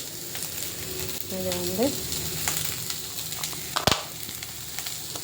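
Ginger garlic paste sautéing in a pan gives a soft, steady sizzle with light stirring scrapes, close but fairly quiet, and someone speaks briefly over it.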